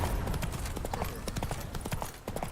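Roach, a horse in The Witcher 3 game, galloping with rapid rhythmic hoofbeats that pound steadily and close throughout, over a continuous wash of ambient game noise.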